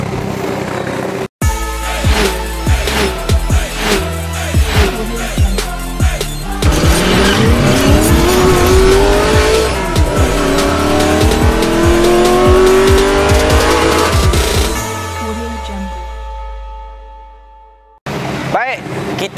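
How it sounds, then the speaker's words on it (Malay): A 1995 Lotus Esprit S4S sports car roars loudly and steadily, with tire squeal and skidding over a busy, music-like backdrop, before it cuts off near the end. "kita teruskan untuk review kereta Lotus Esprit S4S tahun 1995 ni"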